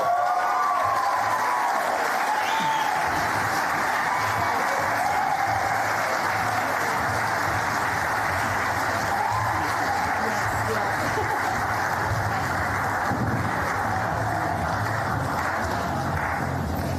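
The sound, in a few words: audience applause at sports awards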